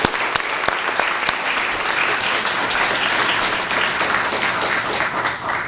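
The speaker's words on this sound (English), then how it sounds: "Let's give him a round of applause." Audience applause at an environmental leadership awards ceremony, a steady, dense wash of many hands clapping that holds for several seconds, fairly loud and close, with no talk over it.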